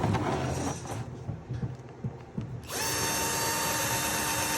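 A few muffled knocks and handling sounds, then a power drill starts and whines steadily at close range as it bores into a wooden plaque for mounting deer antlers.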